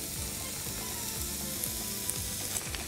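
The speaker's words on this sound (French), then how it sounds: "Je vais les laisser tomber avec la chaleur." Spinach wilts in hot olive oil in a pan with a steady, close sizzle and crackle that stays constant the whole time, with a few faint light taps on top.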